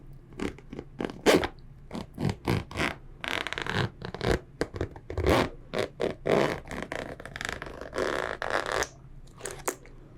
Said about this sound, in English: Let's open this zipper and hope everything doesn't fall out.